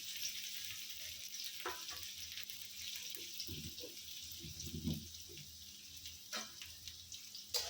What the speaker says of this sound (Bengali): আর পেঁয়াজ কুচি দিয়ে দিব আগে